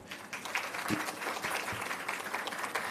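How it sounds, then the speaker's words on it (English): Audience claps at the 2024 JIS Heritage Competition Awards ceremony, a steady, moderately loud patter of many hands in a room, sustained for a few seconds with no talking. "Yes, give them a clap."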